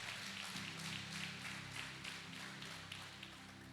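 Steady applause from a church congregation during a sermon on waiting on God, a dense continuous wash of many hands clapping at moderate level with no voices over it.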